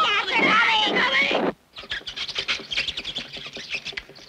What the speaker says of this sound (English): Those poor rats. I'd better save them from those awful cats.